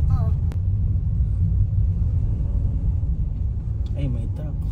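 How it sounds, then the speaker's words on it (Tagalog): A truck rumbles past on a street, a heavy low engine drone that stays loud and steady throughout, with people talking nearby over it. "Ay, may truck."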